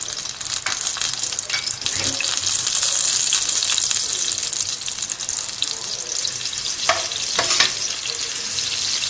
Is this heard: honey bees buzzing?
no